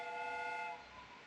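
A train sound effect rings out as a sustained horn-like whistle with several steady tones, fairly faint, then fades and drops off after under a second.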